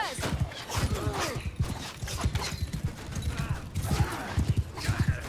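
Cavalry riders in Mount and Blade Bannerlord gallop with rapid, layered hoofbeats, battle noise and faint shouts running continuously close by.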